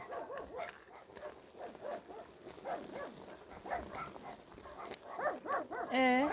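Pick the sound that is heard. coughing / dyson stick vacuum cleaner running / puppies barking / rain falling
puppies barking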